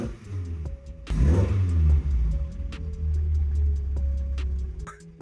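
A Volkswagen Mk1 fitted with a performance cam is revved, a sharp throttle blip swelling the engine's rumble, then settling into a steady, fairly loud drone, with faint regular ticking clicks throughout and no talking.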